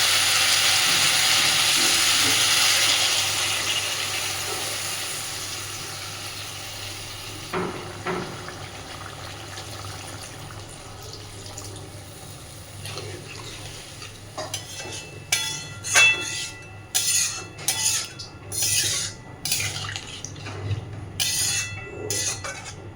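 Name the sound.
water poured into a pan of spiced fish and potatoes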